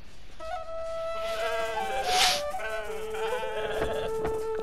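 A giant sheep in the Lost in Play video game gives several long, wavering bleats one after another, close and clear over a soft game background with a brief whooshing swell in the middle.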